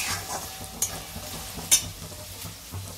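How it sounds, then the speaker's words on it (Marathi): Chili powder roasting in hot oil in a pan for Kolhapuri bhadang made with puffed rice, heard as a close, steady sizzle with rhythmic stirring and a couple of sharp spoon taps. "ते पण चांगलं भाजून घ्यायचं तेलात"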